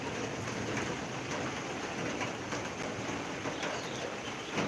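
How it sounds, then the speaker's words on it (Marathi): Monsoon rain in Titwala, now easing slightly after a heavy downpour, falls steadily as an even, dense hiss without pause, with no one speaking. "थोडासा कमी झाला आहे पाऊस"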